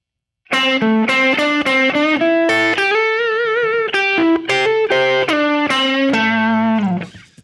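Distorted electric guitar plays a minor pentatonic blues lick, a run of bent and sustained notes, loud and close, ending on a held note that fades.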